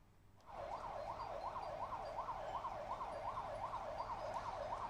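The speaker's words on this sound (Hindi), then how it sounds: "फायर ब्रिगेड की गाड़ियां मौके पर पहुंच गई हैं।" A fire brigade vehicle's siren wails in a steady, rapid up-and-down cycle at the scene of a major restaurant fire in Bhopal's 10 Number Market, continuous and fairly loud over low street rumble.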